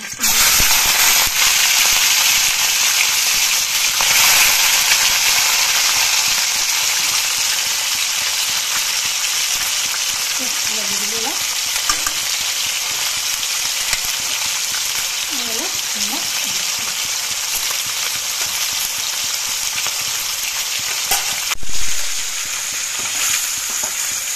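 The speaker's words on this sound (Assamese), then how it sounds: "অলপ ফ্ৰাই কৰি লওঁ" Loud, steady sizzling and crackling of fish frying in hot oil, continuous and close, with occasional faint voices underneath.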